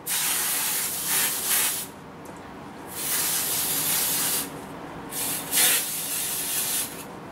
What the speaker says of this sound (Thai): จับแบบนี้แล้วก็สเปรย์ย้อนจากข้างล่างขึ้นมา